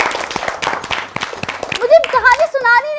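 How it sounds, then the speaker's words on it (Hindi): Sharp, rapid claps ring out close by for under two seconds, followed by a child's animated speech. "तालियां होनी चाहिए इस बात है"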